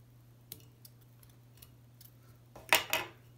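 Thread snipped with scissors while tying a trout fly at a vise: a couple of sharp close snips near the end, preceded by faint small ticks over a steady low hum.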